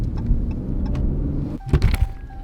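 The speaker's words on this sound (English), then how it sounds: "Got about 300 horsepower under the hood here." A car said to have about 300 horsepower rumbles close by at a low idle, then brief clunks and rattles break in near the end. No one speaks.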